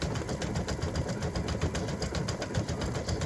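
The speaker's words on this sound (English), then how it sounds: "this is the gift tag that's stitching right now" An embroidery machine stitches a freestanding-lace gift tag for a candy cane earring set, giving a faint, steady, rapid mechanical whirring with continuous needle chatter and no voices.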